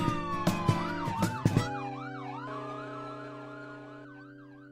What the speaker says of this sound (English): I hear the police sirens.